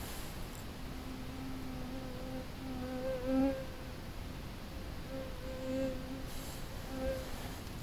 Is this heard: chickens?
no